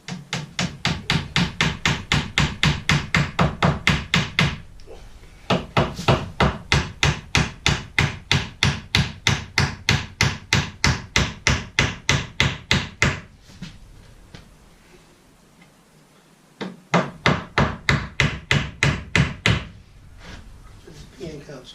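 Small hammer striking a pin into a wooden chair during a repair, in long runs of rapid, evenly spaced loud blows close by, broken by short pauses and a quiet stretch before a final burst.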